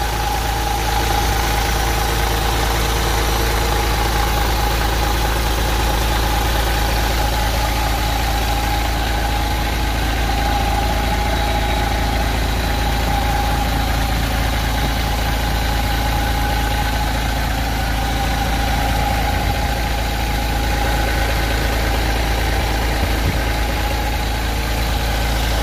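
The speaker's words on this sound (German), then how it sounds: "So, der Motor hört sich doch mal gut an." A MAN 1043 truck's diesel engine idles steadily up close, a loud, even low rumble with a constant mechanical hum and vibration, unchanging for the whole stretch with no talk.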